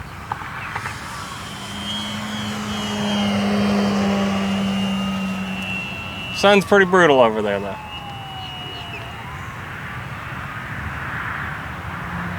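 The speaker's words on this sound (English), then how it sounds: "It's just such a joy to fly this airplane, guys." An electric balsa Waco RC biplane flies overhead, its motor whine steady, then swelling and fading as it passes, with a person talking partway through.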